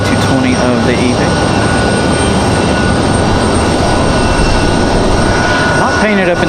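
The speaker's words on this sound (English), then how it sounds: "Next arrival is going to be JetBlue 2783 coming in from Boston. It's going to be an A220-300." A JetBlue Airbus A220-300 arrives at Raleigh Durham from Boston, a loud, sustained jet roar filling the whole span with a steady engine whine, close and constant.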